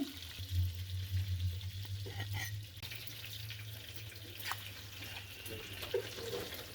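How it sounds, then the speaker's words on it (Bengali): Koi fish frying in hot oil, a faint steady sizzle with a low hum and a few light clatters, no voices. "এভাবে আমি বাকি মাছগুলো ভেজে নেব"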